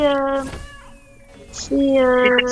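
A kitten meows twice, loud and close, with a short pause between the cries; people talk nearby.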